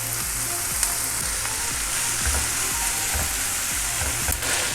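Onions fry with green chili and ginger-garlic paste in a pan, giving a loud, dense, continuous sizzle close up, with the soft scrape of steady stirring throughout.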